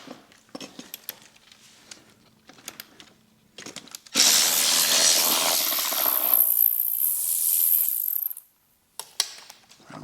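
A battery ratchet with an 11 mm socket undoes a bolt on a 2022 Harley, starting with a few light clicks and then running in one loud, continuous mechanical whir for about four seconds before stopping, followed by a couple of clacks.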